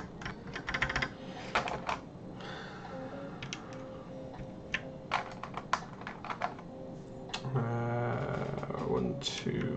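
Typing on a prototype X75 mechanical keyboard fitted with GMK keycaps, with bursts of close, clacky keystrokes in irregular runs and a steady background hum underneath.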